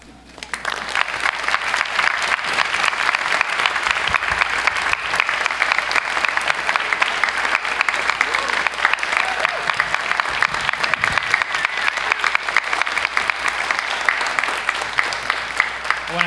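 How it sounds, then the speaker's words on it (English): Sustained audience applause fills a theater after a staged reading performance, a dense, steady wash of many hands clapping at even loudness for the full stretch, with no voices standing out. "With a big round of applause"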